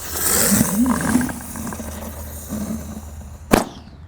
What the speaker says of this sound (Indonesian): lanjut yang kita nyalakan di sini ada mercon teratai Thor